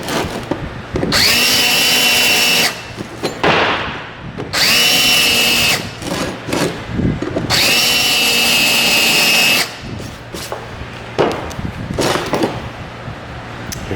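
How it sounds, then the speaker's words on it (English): Power drill with an angled bit deburring a drilled metal hole during motorcycle bobber fabrication, three loud sustained whining bursts of two to three seconds each, separated by brief pauses and scraping noises, close by. "you just take your drill with one of these angled bits, and you just knock them off"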